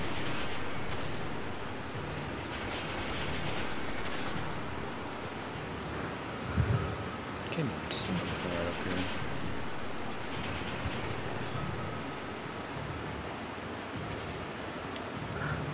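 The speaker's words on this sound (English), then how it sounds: "We can start shooting them." Shooting at minigun-armed enemies in Resident Evil 5 rattles on as a dense, continuous wash of game gunfire and noise for the whole stretch, with one sharper burst partway through.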